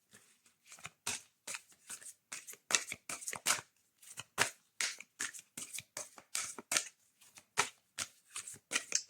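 Oracle cards shuffled by hand, a rapid series of crisp riffling bursts in an even rhythm, close and quiet, with no voice.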